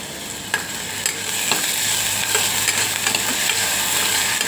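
Onion, ginger-garlic paste and turmeric sizzle steadily in a hot pan while a spoon stirs and scrapes with occasional light knocks, close and continuous.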